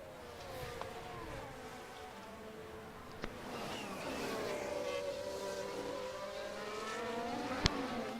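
A Ferrari race car engine in a racing video game on a Canada track, faint sweeping whines that rise and fall through gear changes, with a few sharp clicks, distant and steady.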